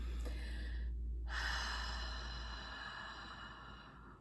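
Slow, deep exhaling breaths during a guided yoga breathing exercise, heard as soft, airy breathing that stays steady and close with no talk over it.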